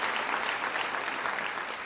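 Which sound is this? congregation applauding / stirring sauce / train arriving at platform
congregation applauding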